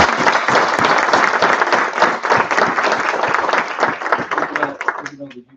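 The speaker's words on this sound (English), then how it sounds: "How about a welcoming round of applause?" Audience applause fills a town board meeting room, steady dense clapping for about five seconds before thinning out at the end, with a voice starting to speak as it fades.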